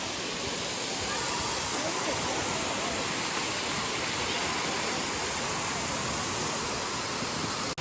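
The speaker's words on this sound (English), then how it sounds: "You got your waterfalls." A steady, full roar of a waterfall at Robert H. Treman State Park, New York, fills the scene, broadband and constant throughout with no breaks.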